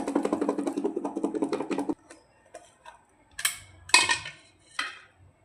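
Guava chaat is stirred with chaat masala, pink salt and chili powder in a container, a steady clatter of rhythmic scraping that stops, followed by a few separate knocks and rattles, close and with no speech.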